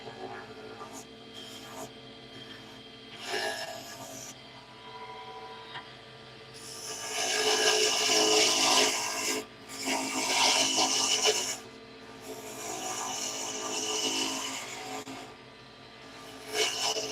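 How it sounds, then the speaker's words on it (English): Wood turning on a lathe, with a cutting tool trimming the spinning timber in rough, rasping swells that rise and fade over a steady low hum, close and fairly loud. "using a lathe is so satisfying. Like trimming away the wood and you feeling it and hearing it"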